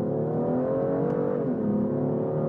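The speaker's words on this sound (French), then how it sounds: "Là, je vais essayer d'accélérer." A BMW M2 accelerating in comfort mode, its engine note rising steadily and loud and close, with a brief dip as a gear changes partway through and no voices over it.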